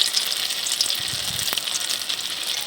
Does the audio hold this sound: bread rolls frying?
yes